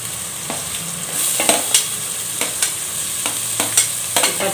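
Onion and green chillies frying in a pan give a steady bright sizzle, while a utensil stirs and taps the pan in sharp, irregular strokes roughly every half second. Close and fairly loud, with no talking.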